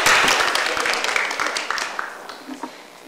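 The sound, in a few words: audience applause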